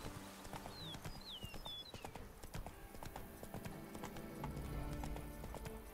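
Roach the horse galloping in The Witcher 3, with steady, close, rhythmic hoofbeats clip-clopping throughout and a few bird chirps above them. No talking.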